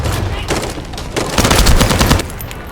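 Rapid automatic gunfire rattles in the sci-fi shooter game The First Descendant, a loud, dense stream of overlapping shots with bursts swelling and fading through the stretch of combat.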